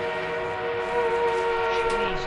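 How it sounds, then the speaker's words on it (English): Armored train approaching in a Battlefield game, heard as a steady rumbling train with sustained whistle-like tonal drone throughout, moderately loud and continuous. "We have an armored train en route."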